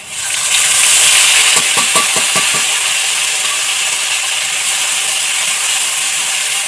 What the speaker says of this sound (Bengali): এটা ভালো করে ভাজতে হবে।